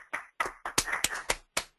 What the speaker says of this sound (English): let's actually all unmute our microphones, etc., and give Yoon a warm virtual applause